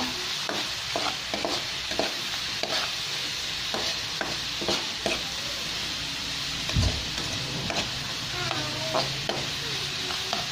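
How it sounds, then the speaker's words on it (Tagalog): An oyster sauce mixture cooking in a pan for kangkong and tofu makes a continuous bubbling sizzle with repeated scraping and stirring knocks and one low thump, and no talking. "Hayaan lang po natin kumulo siya saglit."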